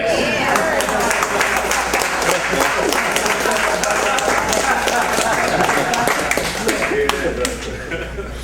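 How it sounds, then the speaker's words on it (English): An audience at a bodybuilding posing seminar claps steadily and densely throughout, a continuous wash of applause with voices mixed in underneath. "You can clap."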